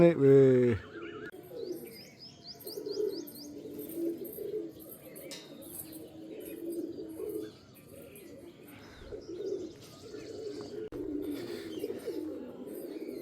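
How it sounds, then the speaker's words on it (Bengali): Pigeons at a loft, some flying, give low cooing that runs almost continuously at moderate volume, with a few higher chirps and light stray noises mixed in. "এখন পায়রা উড়ছে"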